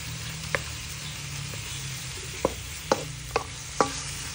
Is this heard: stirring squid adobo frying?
yes